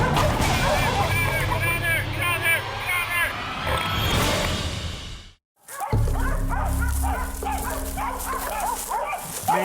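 Pack of hunting bay dogs barking loudly and continuously at a cornered wild boar in the woods, overlapping barks and yips close by, with people talking over them and a brief gap in the middle.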